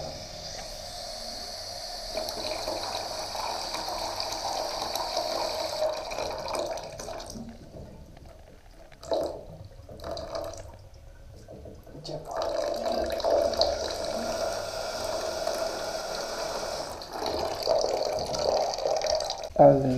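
Tap water runs steadily as a quick check of whether it has turned cold after a repair job, with voices talking over parts of the flow and a brief quieter gap midway.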